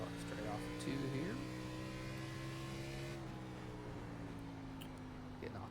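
NASCAR Xfinity race car engine in iRacing at Richmond, holding a steady partial-throttle drone with stacked harmonic tones that rise slightly and then settle, with a voice talking over it throughout.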